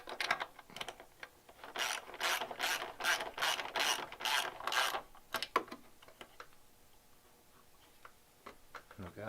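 A nylock nut is tightened on a Honda Grom fender eliminator kit, giving a quick run of rapid ratchet clicks in bursts, close and clear, followed by quieter handling sounds and small knocks.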